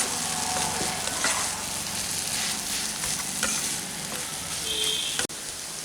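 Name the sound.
mixing lentils and spices frying in a pan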